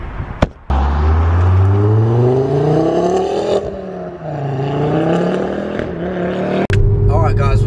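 Ford Focus Mark II RS with a KMS exhaust system accelerating hard through the gears, loud rising engine sweeps heard from inside the car, ending with a sharp cut and brief voice.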